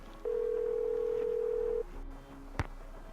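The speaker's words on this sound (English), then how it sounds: "Gonna go in the hallway and make a phone call" A telephone dial tone hums in the Nancy Drew: Legend of the Crystal Skull video game, one steady tone lasting about a second and a half, then a brief click as it cuts off, all quiet and alone.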